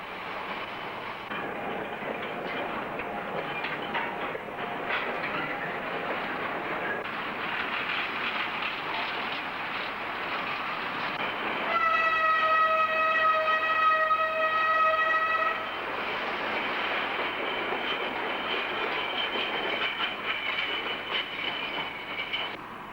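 A narrow gauge work train running on rails at a construction site, a continuous rumbling roll with rattling clatter and a brief sustained squeal of wheels midway, moderately distant.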